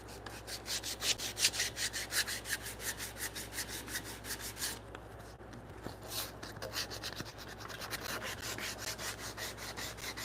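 Chisel paring and smoothing the edges of a wooden tenon for a mortise joint, a fast steady run of close, even scraping strokes with a brief pause midway.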